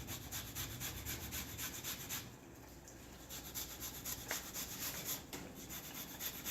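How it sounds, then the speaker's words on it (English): Fresh peeled ginger is rubbed back and forth over a grater in a kitchen while making golden milk. Close, rhythmic scraping strokes come in two runs separated by a short pause, with no speech. "I'm going to grate a whole big chunk of ginger."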